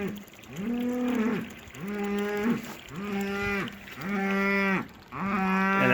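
A cow bellows loudly and repeatedly, five or six long drawn-out calls in a steady rhythm, close by.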